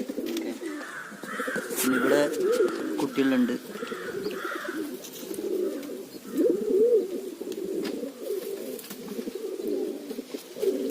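Domestic pigeons coo steadily in soft, rolling low calls close by, with a few higher chirps mixed in, as someone speaks over them throughout.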